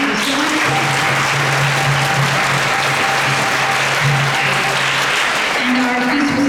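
A live audience applauds for the servers and cooks of a Sunday temple love feast, a steady, dense wash of clapping lasting throughout, with a voice briefly audible over it.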